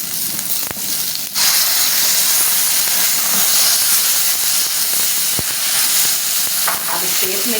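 Loud, close, continuous sizzling and hissing as garlic, onion, capsicum and tomato puree sauté in a pan for Chicken Manchurian, with a few sharp clacks of a spatula stirring. Nobody speaks.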